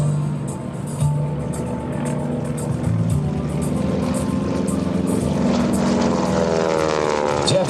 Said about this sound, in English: Listen to the sound of this 600 horsepower radial piston engine,